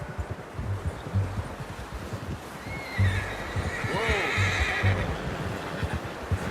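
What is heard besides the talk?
horse neighing in video game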